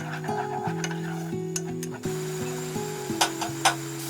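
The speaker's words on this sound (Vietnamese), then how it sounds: "Còn lại một ít dầu tỏi trong nồi, mình cho thơm bằm vào. Xào cho phần thơm chín kỹ, trong lại là được nha." Minced pineapple is stirred and fried in leftover garlic oil in a pot. Soft scraping and stirring strokes come and go under steady background music, with a few sharper clicks near the end.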